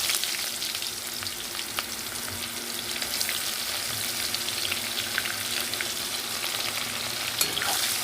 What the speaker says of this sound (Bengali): কিছুটা জিরে ফোড়ন দিয়ে দেব গোটা গরম মশলা আর দিয়ে দেব কেটে রাখা পেঁয়াজ